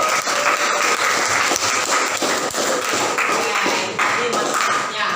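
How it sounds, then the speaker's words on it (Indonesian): Audience clapping at a talk or presentation, a continuous dense patter of hand claps at steady volume across the whole stretch, with speech faintly mixed in. "Terima kasih buat Naila, tepuk tangan dulu."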